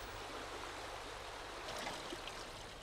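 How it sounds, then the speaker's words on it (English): Sand and pebbles carried along a length of guttering by running water, a steady rushing trickle like a small stream, continuous and fairly close with no voices. "The sand and pebbles in the guttering are behaving as if they were in a river."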